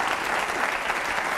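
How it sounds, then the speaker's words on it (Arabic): A studio audience at an Egyptian talk show applauds, dense continuous clapping at an even level for the whole moment, with no voices over it. "انتوا بتسقفوا لحاج الامام بس"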